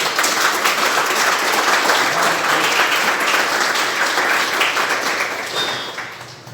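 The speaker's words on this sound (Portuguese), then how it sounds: "Vamos aplaudir essa palavra do Senhor" A church congregation at Mass claps together in steady, dense applause that fills the space, then tapers off toward the end.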